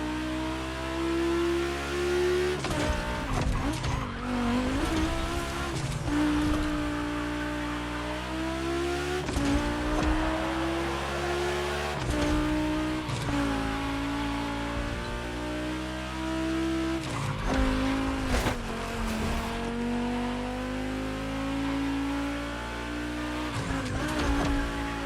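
Race cars in The Crew Motorfest scream past on a track, engines revving up and down through gear shifts with occasional tire squeal, loud and continuous with several cars overlapping.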